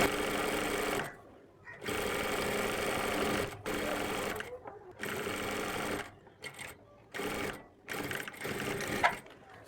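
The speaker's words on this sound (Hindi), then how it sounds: "और जिप की जड़ में सिलाई लगा रहे हैं।" A sewing machine stitches an invisible zip into a kurti in rapid, buzzing bursts separated by short pauses, loud and close.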